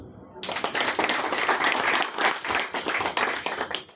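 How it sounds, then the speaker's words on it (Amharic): A church congregation bursts into applause during a sermon on faith. Dense, steady clapping starts sharply after a brief quiet moment and stays loud and full throughout. "ለእምነት አጨብጭቡ።"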